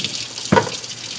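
Tomatoes being rinsed under a running kitchen tap, a steady wash of flowing water with one brief splash partway through, close and alone with no talking.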